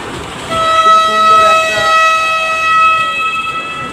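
A toy train's horn at the Panchgram fair in Murshidabad sounds one long, bright, steady toot close by, holding for a few seconds over faint fairground background noise.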